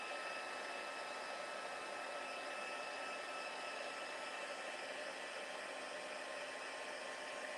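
A hair dryer blows steadily on a wet painted background, a constant even whoosh of airflow with no voices, holding the same level throughout.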